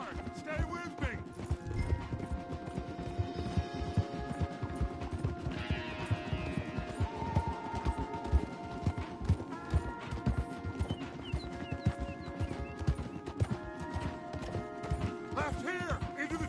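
Horses galloping hard in the video game Red Dead Redemption 2, a dense, continuous clatter of hoofbeats close by with occasional whinnies and rattling tack, while voices talk over it.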